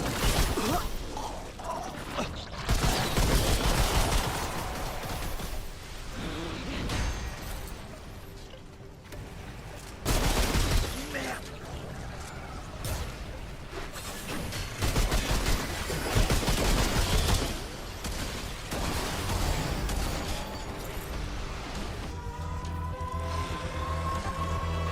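Bursts of gunfire from the Remnant II game come in repeated clusters, rapid automatic volleys and single heavy shots alternating with mechanical clanks and brief lulls, loud and close throughout with no speech.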